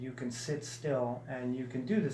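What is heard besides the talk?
No distinct noise like a dog, phone or traffic.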